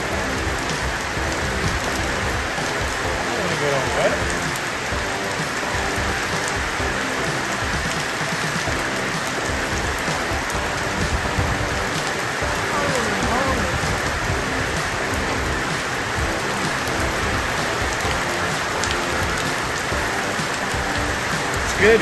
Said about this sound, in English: All the rain from the roof.